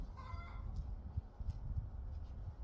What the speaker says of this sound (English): I hear my chickens going off